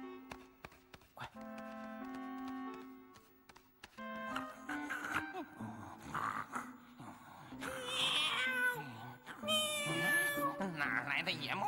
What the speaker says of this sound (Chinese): 哪来的野猫？